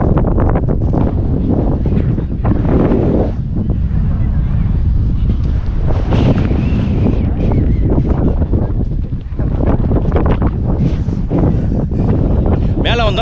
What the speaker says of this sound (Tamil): பாருங்க காத்து பயங்கரமா அடிக்குது, அப்படியே ஆளே தள்ளுது காத்து